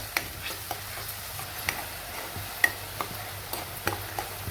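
A coarse tomato masala paste fries in oil in a pan, a soft steady sizzle with faint scattered ticks and taps of a spoon, quiet and close, with no one speaking.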